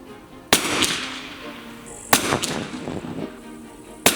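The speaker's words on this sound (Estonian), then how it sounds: "Täpsemalt proovisime kätt sportpüssiga laskmises." Three sharp sport rifle shots ring out at a shooting range, spaced about one to two seconds apart, each with a brief echoing tail and a low murmur between them.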